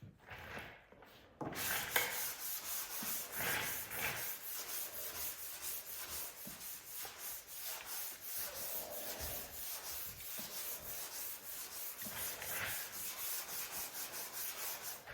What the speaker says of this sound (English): So you want to let the sandpaper do the work for you.